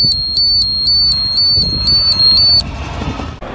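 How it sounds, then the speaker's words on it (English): A carbon monoxide detector alarm on a ForeFlight Sentry ADS-B device sounds a rapid series of shrill, high electronic beeps, close and loud, then cuts off abruptly, leaving low background noise. "it's going to alert you with a very loud alarm"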